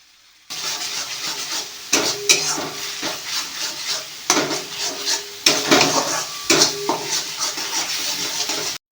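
Spices and tomato paste fry and sizzle steadily in a pan, broken every couple of seconds by the scrape and clatter of a spoon stirring against the metal, with no talk over it.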